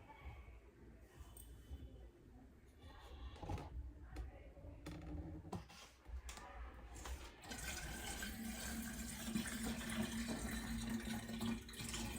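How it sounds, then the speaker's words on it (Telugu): Water is poured into a Voltas dishwasher, first as uneven sloshing and clatter, then as a steadier, louder stream that keeps running to the end, close by. "వాటర్ వేసుకోవాలి."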